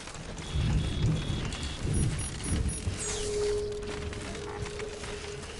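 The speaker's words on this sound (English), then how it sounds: "It had to rain while I was like delivering the cargo." Rain falling in the video game Death Stranding, a steady hiss of downpour with low rumbling thunder swelling early on, fairly quiet and continuous.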